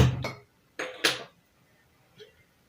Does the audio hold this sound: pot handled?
yes